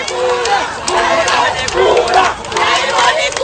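A huge outdoor crowd welcomes President Boni Yayi on a visit to Pahou in Benin, cheering and shouting loudly and continuously in waves of overlapping voices, close and dense throughout.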